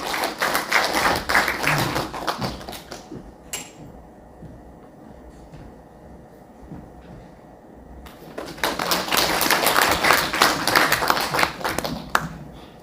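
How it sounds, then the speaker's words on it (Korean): Audience at a symposium applauding to welcome the Jeju boxing association president to the podium, a burst of clapping that fades into a quieter pause before loud applause swells again, with some background voices. "박수로 맞아주시면 감사하겠습니다"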